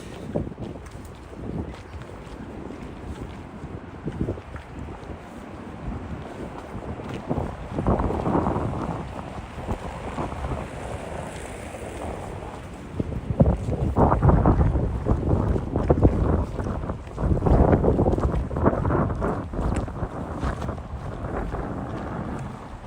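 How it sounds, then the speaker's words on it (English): Wind blows steadily across the microphone near a seashore, a continuous low rumble that gusts heavier in the second half, with faint broadband wash suggesting water and waves in the background. "now the wind starts to blow a little bit heavier as we approach seashore"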